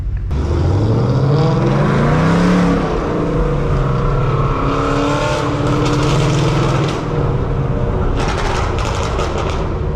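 Several Ford Mustangs rev and race on a Detroit street, a loud continuous engine roar with rising and falling pitch sweeps as they accelerate, sustained throughout with bursts of higher-pitched noise.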